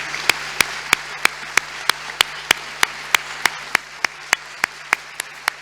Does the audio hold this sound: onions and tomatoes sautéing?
no